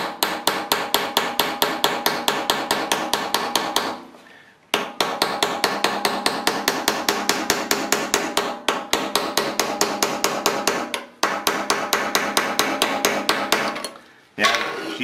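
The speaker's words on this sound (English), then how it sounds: "let's just see if maybe a little tap against one of the openings there" Steady hammer blows tap a punch against a stuck part of an R8 rifle, a fast, even run of sharp metallic strikes in four bursts separated by short pauses, close and loud with no talk.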